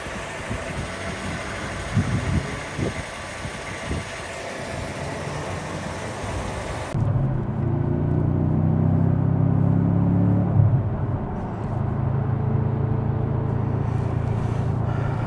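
A blue Audi RS4 B7 engine running, first idling with mechanical rattles, then a louder cabin drone as the car pulls away and drives, with steady rumbling engine tones.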